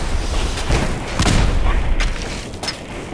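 A rocket launched and blowing up in the Fallout 4 game, a loud booming blast with rumbling low end that swells and lingers over about three seconds, with a second burst near the end.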